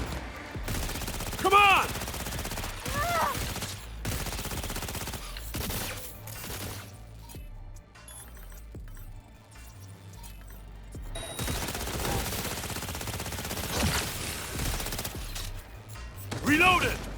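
Heavy weapons blasting in Cyberpunk 2077, rapid volleys of loud gunfire coming in bursts with quieter gaps between, while a voice shouts briefly.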